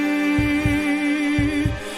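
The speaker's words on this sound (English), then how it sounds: "during that whole thing, you could hear like a heartbeat going" A heartbeat sound effect in a song thumps in two paired double beats, lub-dub, under a sustained droning chord.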